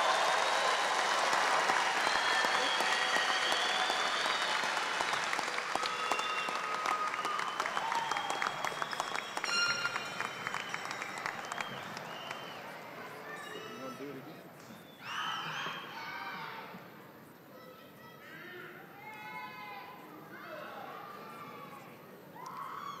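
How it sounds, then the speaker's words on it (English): Commencement crowd at Angelo State University applauding its graduates, a loud dense clapping roar that gradually thins and fades, with scattered cheers and a voice speaking over the tail. "Friends and family, let's honor all of our graduates with a big round of applause"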